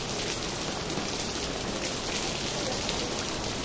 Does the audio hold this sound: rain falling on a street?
yes